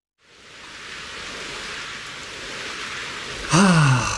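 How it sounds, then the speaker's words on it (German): Steady country rain falls in Borkheide, Germany, as an even, close hiss that holds for several seconds before a brief rising tonal sound cuts in near the end. "Ist das nicht schön, so ein Landregen, den die Natur unbedingt braucht?"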